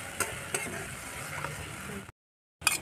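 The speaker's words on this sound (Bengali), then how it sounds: "ভালো করে কষিয়ে নেব। মশলার জলটুকু দিয়ে দিলাম ধুয়ে।" Fish curry masala cooks in a pan with spice water, a close sizzle under scraping stirs and a few sharp utensil knocks, then a brief cut to silence before the sizzle returns.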